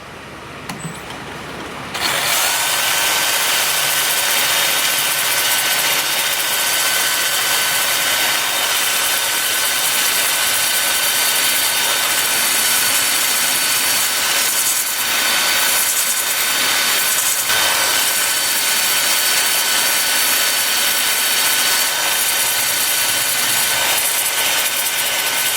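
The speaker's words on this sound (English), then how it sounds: "right now I have my drill spinning in reverse so that I'm going this way" A drill spins a sanding pad in reverse against the outer edge of a turned cherry wood bowl, a loud continuous whirring rub starting abruptly after a quiet moment and holding steady throughout.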